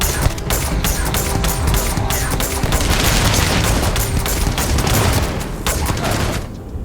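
Dense gunfire fills a firefight in the Starfield video game, with rapid overlapping shots forming a continuous loud barrage that holds for several seconds before cutting off abruptly at the end.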